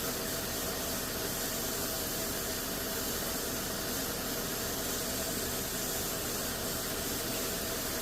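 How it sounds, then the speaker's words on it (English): A shop vac fitted to a dust collection system runs steadily in a lure-making workshop, a loud, even broadband whoosh and hiss lasting the whole time with no pauses or voices. "This is just a shop vac with the dust collection system on it"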